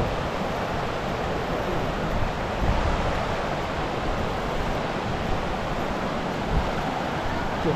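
Steady broadband rush of a river flowing in the Demirkapı highlands near Trabzon, constant and fairly loud with no pauses, no voices over it.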